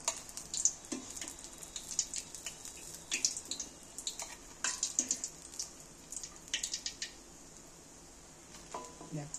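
Coated fish fingers sizzle in hot oil in a home kitchen, with a steady, faint crackle broken by sharper spits and pops and a few clinks of a utensil.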